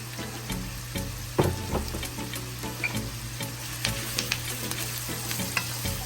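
Saltfish sizzles steadily in a hot pan, with a constant close frying hiss broken by scattered clinks and scrapes of stirring.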